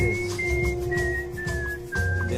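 A long, steady, high melodic whistle runs through a hip-hop track, sliding gently between held pitches over a dense beat and bass.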